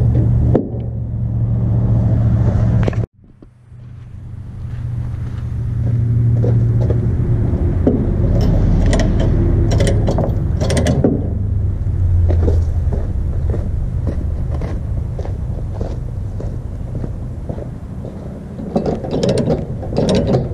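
Ratcheting binder being cranked to tighten a tie-down securing a BX compact tractor on a trailer, giving a steady run of mechanical clicks and clanks close by after a brief pause, with no talk.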